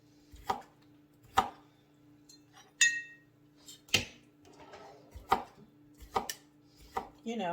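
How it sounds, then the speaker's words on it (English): Knife chopping small kosher pickles on a cutting board: sharp, distinct cuts at an uneven pace, about eight close, crisp knocks with quiet gaps between, and no talking. "I'm going to give these little baby koshers a good little teeny tiny slice."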